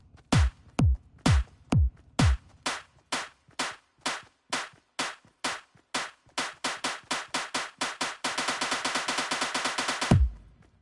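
A song's chorus played note by note on Fortnite music blocks in a video game, sharp percussive tones tapped in a quickening rhythm that speeds into a dense flurry before stopping, no voices.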